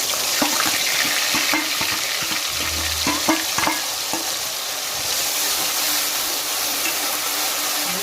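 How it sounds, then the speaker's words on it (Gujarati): Ground onion, ginger and garlic paste hits hot oil with cumin in a pan, giving a loud continuous sizzle with scattered clicks and scrapes of stirring throughout. "હવે આપણે આ ડુંગળી આદુ અને લસણ જે મિક્સર ગ્રાઇન્ડરમાં પીસ્યું હતું એ નાખી દઈશું"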